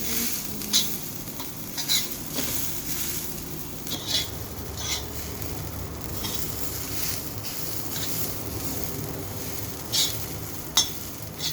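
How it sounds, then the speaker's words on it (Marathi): Grated coconut roasting in oil over low heat, stirred steadily with a spoon, with rhythmic scrapes over an even crackling sizzle throughout. "आता मी जे आहे खोबरं टाकून घेते. खोबरं जरा आपल्याला व्यवस्थित भाजून घ्यायचं आहे."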